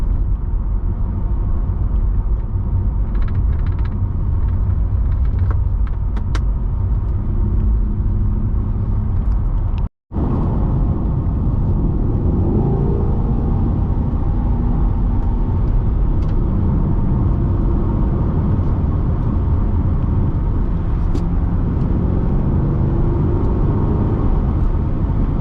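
Rear-mounted V8 of a 2020 C8 Corvette heard from inside while driving, a loud steady low rumble and road drone that continues unbroken apart from one brief cut.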